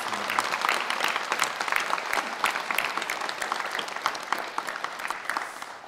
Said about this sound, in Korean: 우리 다시 한번 하나님께 큰 감사로 박수 올려드리겠습니다